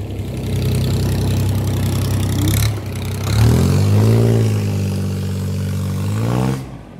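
A Mitsubishi GB180 or Yanmar 3T63 diesel engine runs steadily on a 3.5 m speedboat with an 8.1 m hull, a loud low throb that rises and falls as the throttle is opened and eased back.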